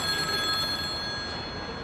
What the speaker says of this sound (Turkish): Ya bakın şu telefona biriniz hayrınıza müşteri arıyor.